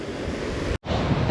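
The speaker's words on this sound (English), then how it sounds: "the waves are too tall out there for me to see the boat at all" Ocean waves and wind roar steadily around a fishing boat at sea, a continuous broadband wash with low rumbling surf, cut by a brief total dropout before the same churning resumes.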